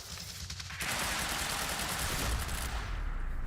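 Gunfire in the Quantum Break video game: a dense, rapid burst of shots that rattles continuously for about three seconds, fairly quiet in the mix, with no talking.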